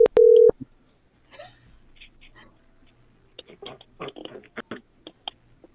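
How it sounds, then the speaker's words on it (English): Telephone keypad tones beep in two quick bursts at the start, loud and clean, followed by quiet scattered rustling and faint background movement. "What is with that phone call thing?"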